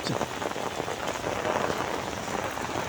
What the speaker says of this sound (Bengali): দিনভর বৃষ্টি হচ্ছে